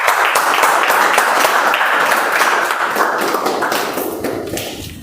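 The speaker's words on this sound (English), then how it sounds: "Now let's give a huge round of applause" Loud, dense applause in an online club meeting, a steady wash of many overlapping claps and taps that holds for several seconds before gradually thinning out.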